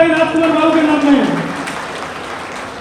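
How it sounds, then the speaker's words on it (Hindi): At a Poddar Vaishya Mahasabha gathering in West Bengal, a voice gives way to a crowd's applause, a wash of clapping that swells and then trails off steadily. "जोरदार ताली राजकुमार बाबू के नाम में"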